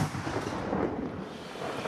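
A deep, rumbling boom from an artillery cannon firing rolls out and fades slowly, heavy and fairly close, with no voices; wartime shelling near Toretsk, Ukraine.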